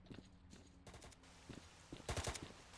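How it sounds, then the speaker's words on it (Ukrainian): Gunfire in the S.T.A.L.K.E.R. video game: several bursts of automatic fire and single shots, heard at a moderate distance as an uneven, rattling volley with no speech. "Що, стріляються вони тут чи що?"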